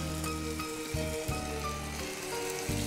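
Masala spices sizzle and crackle in hot oil in a frying pan, a steady close hiss with faint tonal notes, no voices.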